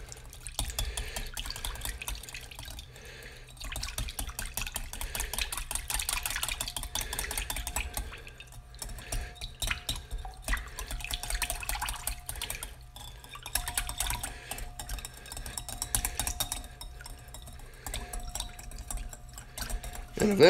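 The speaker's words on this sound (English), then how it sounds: "we're just going to whisk this up without making a mess" Homemade hand sanitizer mixture whisked in a bowl, giving a continuous close wet clicking and swishing with quick rhythmic strokes, steady throughout.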